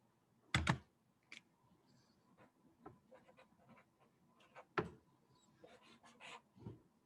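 Light plastic calculator button taps in an uneven series, close by and fairly quiet, with short pauses between clusters of presses.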